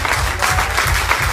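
An audience claps for the performers at an evening concert in Le Vigan, a short, loud, steady burst of dense applause from a close crowd.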